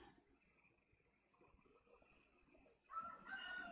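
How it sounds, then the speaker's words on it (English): A rooster crows outdoors, a loud call rising near the end of the clip after a stretch of faint background noise. "I have a rooster outside going crazy right now."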